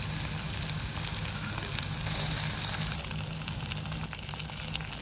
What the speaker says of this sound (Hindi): अब हम इसमें डालेंगे बैगन जो हमने फ्राई करके रखे थे।